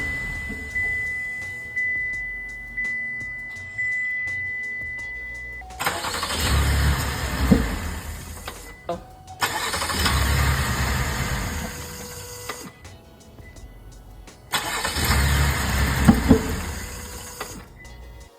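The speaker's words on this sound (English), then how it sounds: "It just start, run very rumbly and poorly for about 5 seconds and then stall." A car engine cranks and catches three times, each time running rough and rumbly for a few seconds before stalling into quiet, with a steady ticking between attempts.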